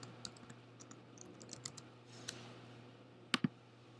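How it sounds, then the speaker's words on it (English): Keys are typed on a computer keyboard to enter a name, a light scattered run of taps over a low hum, then two sharp, louder clicks close together near the end for the search. "I type Menlove and hit search."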